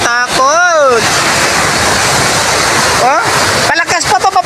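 Rushing floodwater churning and surging in a swollen river during heavy rain, a loud, steady roar with voices talking over it at the start and end.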